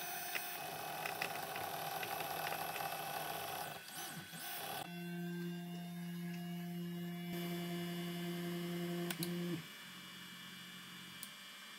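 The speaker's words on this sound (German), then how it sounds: "jetzt bewegt sich der Drucker und homet" An Easythreed K7 3D printer homes its axes, its stepper motors giving off a steady whirring drone that shifts pitch and cuts out near the end, leaving a low electrical hum.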